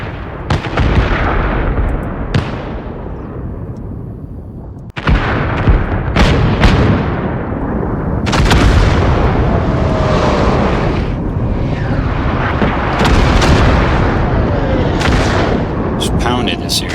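Artillery shells called in by AI forward observers pound an area in Arma 3. Repeated loud explosions land close, each a sharp crack followed by a long rumbling roar, and people talk in places.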